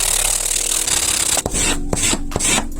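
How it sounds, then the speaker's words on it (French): Sandpaper scrubs the shaped edge of a wooden fingerboard deck, a steady dry rasp of quick back-and-forth rubbing strokes, close and continuous with brief pauses between passes. "Maintenant l'idée les gars, ça va être simplement de venir poncer la forme qui est là"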